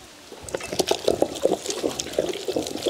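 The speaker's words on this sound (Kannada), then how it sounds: "ಸ್ವಲ್ಪ ಖರ್ಜೂರ ಬೇಯಿಸಿದ ನೀರು ಸೇರಿಸ್ತೇನೆ" Water saved from boiling dates is poured into a mixer grinder jar, making a close, uneven liquid splashing and trickling that starts after a brief pause and continues in irregular bursts.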